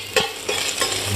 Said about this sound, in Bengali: পেঁয়াজ দিলাম। পেঁয়াজটা একটু ভাজা ভাজা হবে